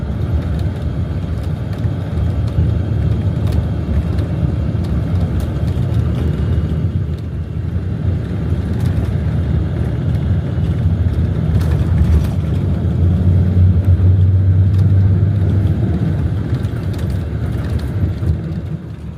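A night-time Jaya Reog long-distance coach bus drives fast along the road toward Solo, its engine and tyres making a steady, loud low rumble throughout with no talk.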